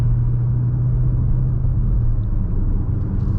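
Steady engine rumble from a 2021 Ford Bronco Sport SUV under light acceleration on a back street, heard from inside the cabin as a loud, continuous low drone with no talking.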